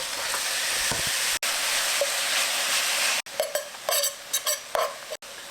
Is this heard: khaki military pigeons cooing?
no